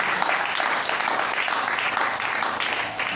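A church congregation claps and cheers loudly together, dense, steady and unbroken.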